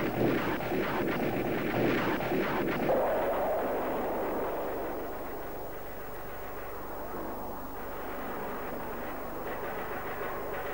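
An F-4 Phantom gun pod fires during ground attack passes: a dense, roaring burst of rapid fire for about three seconds that then fades into a fainter rumble.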